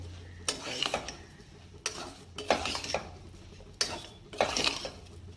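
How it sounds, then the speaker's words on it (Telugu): A spoon scrapes and clanks against a pot as rice is stirred and fried in a little oil for coconut milk rice, in about four close, separate bursts over a low steady hum. "ఒక 2 minutes ఇట్లా కలిపేసుకోవాలి మొత్తం ఫ్రై అయ్యే వరకు."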